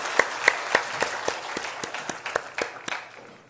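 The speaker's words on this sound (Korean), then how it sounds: "우리 하나님께 영광의 박수를 드리겠습니다." A church congregation gives applause during a Sunday service. The claps are sparse and uneven, a scattered handful of distinct claps that soften and thin out over a few seconds in a reverberant room.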